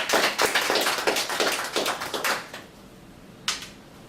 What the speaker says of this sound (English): Let's have another round of applause for Daryl.